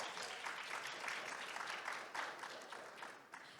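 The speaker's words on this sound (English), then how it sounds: "Let's give a round of applause to our panel." An audience claps for a discussion panel, a soft, steady wash of applause heard from some distance that fades slightly toward the end.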